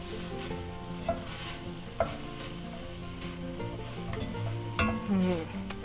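A zucchini and cabbage soup being stirred in a pot, with soft bubbling and a steady simmer beneath a few distinct spoon knocks against the pot, moderately quiet and without talk.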